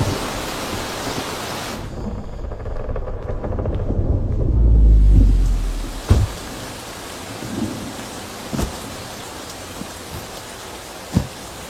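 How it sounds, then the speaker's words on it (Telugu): Heavy rain pours in a steady hiss while thunder rumbles and swells in the middle, followed by a few sharp cracks and drips standing out against the downpour. "వర్షం గట్టిగా పడుతుందా?"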